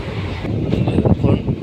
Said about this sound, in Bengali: ট্রেনে সফর করছি